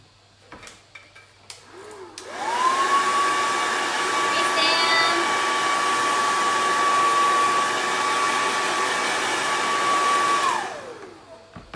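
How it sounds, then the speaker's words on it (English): A hair dryer dries a chalk couture craft project, starting after a few clicks and handling noises with a rising whine, then holding a loud, steady blowing roar for about eight seconds before winding down. "So I'm going to pull it up, it's already starting to dry. And blow dry it."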